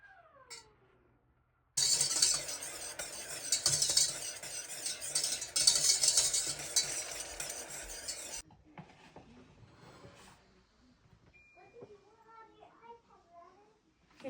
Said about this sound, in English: I'm going to bring it to a boil and stir it and let it boil for 2 minutes